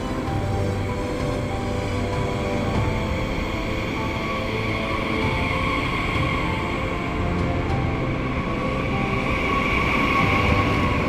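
Steady rumble of a passenger train running on rails through India's Goa-to-Kerala route, heard from inside the carriage, a continuous close, even drone with faint rolling texture and no talk.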